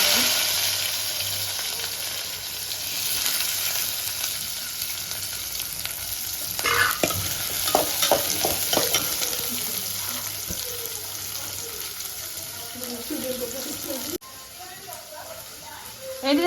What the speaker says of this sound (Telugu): ఫస్ట్ ఆవాలు జీలకర్ర వేసినాను